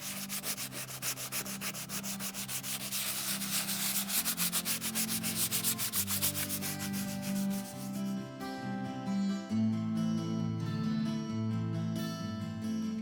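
Sandpaper rubs in quick repeated strokes over a painted plaster surface, a close, soft scratching rhythm heard beneath music, with no speech.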